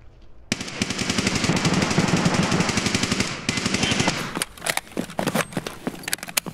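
Automatic gunfire in Escape From Tarkov during a team fight: a long sustained burst of rapid shots, briefly broken, then a second burst trailing into scattered single shots, loud and close.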